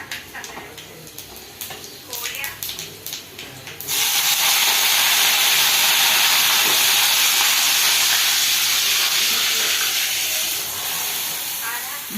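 Mustard seeds tempering in hot oil, a sudden loud, broad sizzle bursting in after a quieter stretch and holding steady for several seconds before easing slightly, close by.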